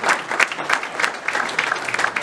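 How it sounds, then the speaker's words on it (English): Steady applause from a crowd at a Knights of Columbus candidate forum, dense clapping that continues throughout at a fairly loud, even level. "let's Give another round of applause for my Knights of Columbus brothers"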